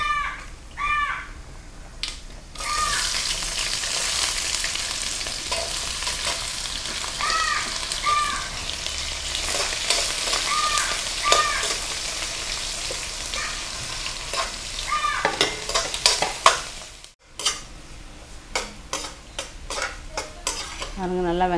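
Onions frying in hot oil with fenugreek seeds, a steady sizzle under repeated scraping and clanking of a spoon against the pan. Birds chirp faintly in the background, and a brief gap of near silence comes toward the end.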